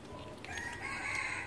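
Rooster crowing at an outdoor grilled-chicken cookout, a single drawn-out call rising over steady background noise.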